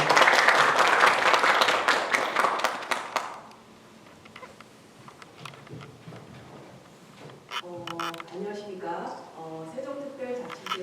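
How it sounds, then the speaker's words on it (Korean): Applause and clapping from an audience greeting a council member at a Sejong City Council youth assembly, loud for about three seconds, then fading into quieter room sounds and a voice speaking. "박수 한번 부탁드립니다."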